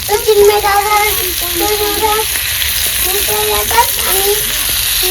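Mandeli fish frying in oil over a wood-fired village chulha, a loud, steady crackling sizzle close up, with a voice speaking over it in short phrases.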